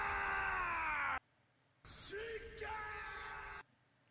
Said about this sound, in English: he screams so loud he's reverberating throughout the whole thing